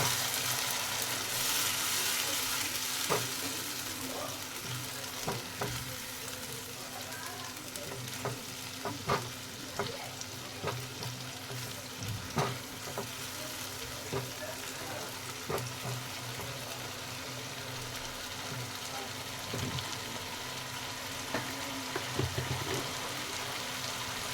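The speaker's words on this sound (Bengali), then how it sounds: "ভালো করে আবারও সবগুলোকে নাড়িয়ে নেব।" Ingredients for lemon leaf chicken, including tomato paste, stirred as they fry in a pan: a steady sizzle throughout with repeated scraping and clattering stirring strokes, close and alone without talk.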